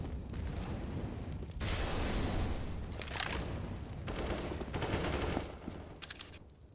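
Pistol shots ring out in a Counter-Strike match on the Ancient map, with sharp repeated cracks and booming bursts in uneven clusters over a dense game background.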